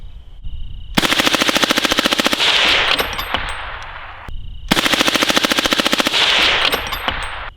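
A suppressed machine gun with a 10.5 inch 300 Blackout upper fires 147 grain P&W rounds in two long, rapid, loud bursts, each a dense run of evenly spaced shots with a short pause between.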